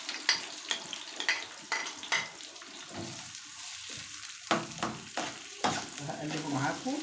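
Oil sizzling and frying in a pan while cooking Alexandrian-style liver, a steady crackling hiss broken by intermittent scrapes and clinks of a utensil stirring against the pan.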